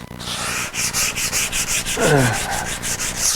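Edges of a Suburban's car body being sanded, giving a loud, steady abrasive rubbing in rhythmic back-and-forth strokes, close up and with no voices.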